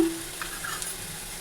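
A short, quiet sizzle of chickpeas frying as a tempering in hot oil, with a faint scrape of stirring.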